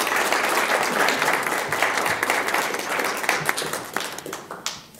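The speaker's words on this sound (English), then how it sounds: "One more big round of applause for Annabelle." Audience at a school governing board meeting gives a round of applause, dense clapping that starts strong and thins out toward the end over about five seconds.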